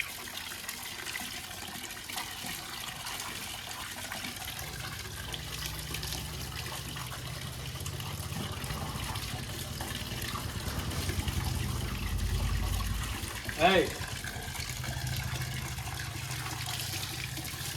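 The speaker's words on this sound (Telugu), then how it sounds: "బాడీకి స్నానం చేయించిన తర్వాత లాస్ట్కి అయిపోతుంది అన్నప్పుడు నెత్తి మీద నీళ్ళు పోయాలి" Water poured over a dog during a bath, a steady running splash that swells in the middle and peaks in a brief louder gush near the end, with faint background noise throughout.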